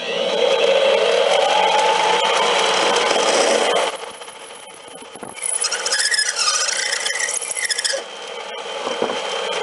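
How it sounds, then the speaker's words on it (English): A simple hand file cleans up the cut end of a metal boba straw, a loud, harsh scraping rasp at close range that breaks off briefly and then resumes in short strokes. "Next, I'm going to clean up the end with a simple file and a handheld chamfering tool."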